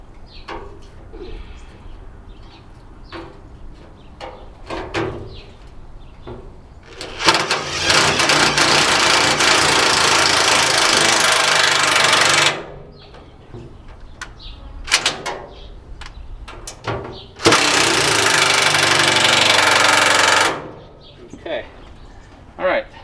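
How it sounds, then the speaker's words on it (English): Power drill boring a small starter hole in a trailer during a build, two sustained whirring bursts of several seconds each, separated by quieter handling noises and clicks. "start it with a drill, small hole, just to kind of get it going"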